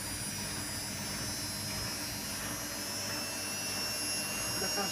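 A Candy Aquamatic 1000T washing machine spins at high speed, giving a steady, loud whine and whirring drone with no breaks.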